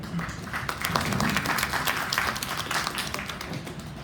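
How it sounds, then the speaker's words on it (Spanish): An audience at a legal rhetoric and argumentation lecture claps steadily to welcome a speaker, a dense round of applause that holds for several seconds without talk. "Un aplauso para él, por favor."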